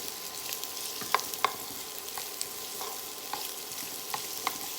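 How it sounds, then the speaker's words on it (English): Steady sizzling and crackling of onions frying in a pan, with occasional sharp pops and light clinks, no voices. "can you hear that sizzling?"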